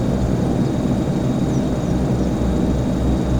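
A Saab 340 turboprop airplane in a flight simulator game rolls out after landing, its propeller engines producing a steady, loud, even drone throughout.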